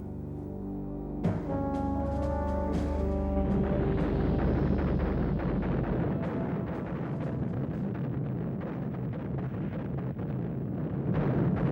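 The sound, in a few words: artillery barrage sound effect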